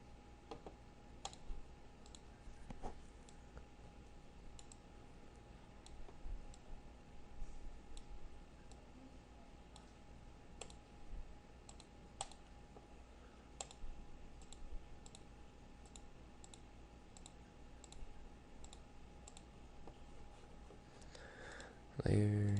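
A computer mouse clicks repeatedly during software editing, with sparse, sharp, quiet clicks spread irregularly over a low steady background hiss, and a brief voice right at the end.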